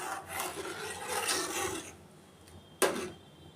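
Spoon scraping and swirling through a vermicelli and custard-powder milk mixture in a pot, soft continuous rasping strokes for about two seconds, then a quieter pause and one sharper knock near the end.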